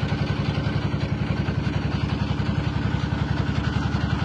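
A trawler boat engine running on a tidal canal in the Sundarbans, a loud, close, steady chugging with a fast regular mechanical beat and clattering rattle throughout.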